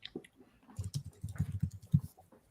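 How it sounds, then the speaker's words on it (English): Keys tapping on a computer keyboard in a quiet room, a run of soft, uneven clicks and patters close by, with no talk over them. "as you're typing this out"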